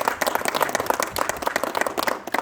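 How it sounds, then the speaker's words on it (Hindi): Applause from a crowd at a Jat Mahasabha gathering in Sangaria as team members are called up, steady rapid clapping from many hands, moderately loud and continuous, with no speech over it. "जोरदार ताली बजाओ।"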